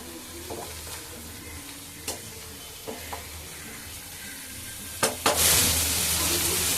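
Spice paste for Kashmiri-style stuffed aloo dum sautés in a pan, a constant sizzle punctuated by a few sharp spatula scrapes and knocks, swelling louder near the end.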